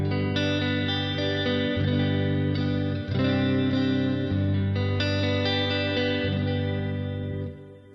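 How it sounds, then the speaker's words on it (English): Electric guitar on its neck pickup through a Quad Cortex capture of a Kustom KLA-20R practice amp's clean channel, chords strummed steadily for several seconds with delay and reverb trailing, no talking. "So this is the clean channel of the KLA-20R, and this is the neck pickup."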